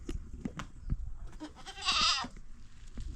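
A goat gives one loud, close bleat partway through, set against quieter shuffling and handling noises around it.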